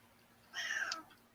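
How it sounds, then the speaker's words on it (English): A cat gives a single short meow in the background, faint and distant against an otherwise quiet setting. "I hear a cat in the background"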